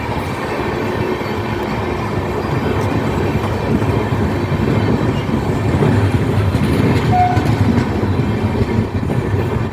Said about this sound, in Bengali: ইলেকট্রিক ট্রেন, এটি হচ্ছে ইলেকট্রিক ট্রেন।